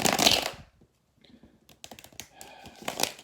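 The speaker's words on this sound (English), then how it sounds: "All right, Gemini, last shuffle." Tarot cards shuffled up close, a crisp riffle burst at the start, then a pause and a series of quicker papery flicks and taps.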